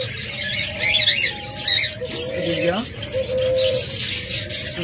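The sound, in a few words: master pair of pet birds calling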